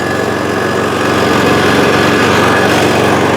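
A Kraft&Dele KD194 inverter generator runs steadily at close range, a loud and constant engine drone with a buzzy high whine and no change in pitch or rhythm.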